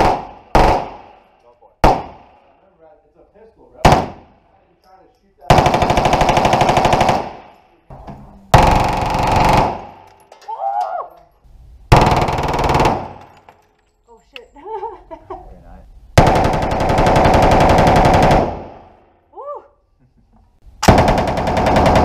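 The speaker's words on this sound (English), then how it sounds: "here's 30 seconds of me shooting 5 different fully automatic firearms at Lock and Load Miami" Fully automatic firearms fired at a Lock & Load shooting range in Miami: loud sustained bursts of rapid gunfire alternating with short single shots and pauses, with people talking and laughing between bursts.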